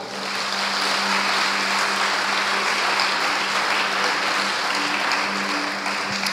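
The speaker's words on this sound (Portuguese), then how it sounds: "Aplauda o Senhor." A church congregation applauds during a Portuguese-language sermon, a dense, loud, sustained wash of clapping from many hands that runs for several seconds before easing slightly at the end.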